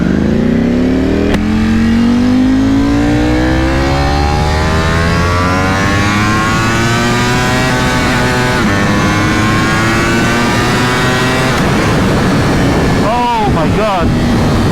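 A 2020 Ducati Panigale V4R with an Akrapovic race exhaust pulls hard through the gears, its loud, rising engine howl climbing steadily with brief shift breaks, heavy wind rush throughout and a few sharp downshift blips at the end.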